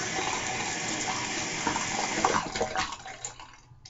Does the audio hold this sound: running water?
yes